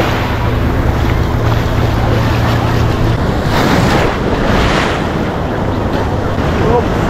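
Ocean waves wash continuously at Ipanema Beach in Rio de Janeiro, a loud, broad surf roar mixed with heavy wind buffeting the microphone.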